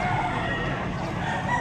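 A rooster crows amid the crowded din of a poultry section at the Padre Garcia, Batangas livestock auction market, a steady hum of birds and activity filling the background.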